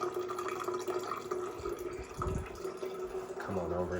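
Water running from a reverse osmosis filter tap into a container, a faint trickling fill with small splashes, mixed with some background voice and household noise.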